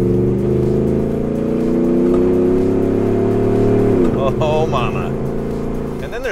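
A Ford F150 pickup fitted with Raptor-style grille, bumper, fender flares, wheels, tires and suspension runs its engine loud and close. A sustained droning roar shifts abruptly partway through into a rougher, wavering rev.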